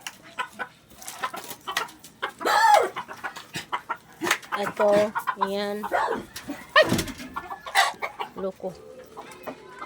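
Hens clucking in bursts close by at a farm during rainy weather, irregular short calls scattered throughout while a person talks in Filipino over them.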